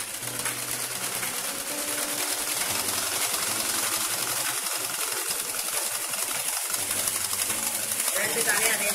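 Sewing machine stitching the legs of a track pant in a tailoring class, a continuous fast mechanical whirr running steadily throughout with someone talking over it.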